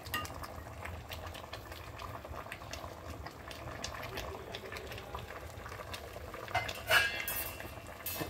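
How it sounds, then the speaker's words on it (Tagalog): Metal pot and lid clatter and clink over a low bubbling boil while lechon cooks, with a sharper clang of the lid near the end and faint voices in the background. "Takpan ko muna habang nagpapakulo."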